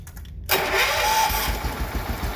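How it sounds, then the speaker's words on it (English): A Case XC210 lawn mower engine, left sitting for over fifteen years, cranks and fires after a short quiet start, then runs at a rough, uneven idle nearby with no voices. "Let's see if she'll fire back up"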